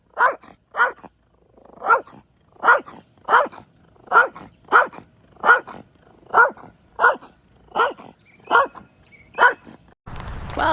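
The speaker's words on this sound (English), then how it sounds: "This big, strong, tough dog." A big dog barks in a slow, regular series of about a dozen loud, close woofs mixed with throaty growls, evenly spaced with short silences between, ending in a burst of rough noise.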